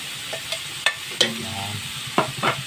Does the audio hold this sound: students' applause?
no